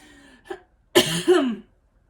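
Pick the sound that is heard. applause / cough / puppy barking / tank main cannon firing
cough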